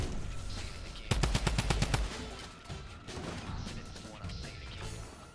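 In the video game Fortnite, a drum gun fires one rapid automatic burst lasting about a second, loud and sharp against quieter game sounds.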